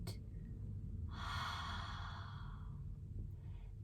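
A slow, audible exhale during a guided belly breathing exercise, a soft breathy rush lasting about two seconds over a low background hum, close to the microphone, with a faint second breath near the end.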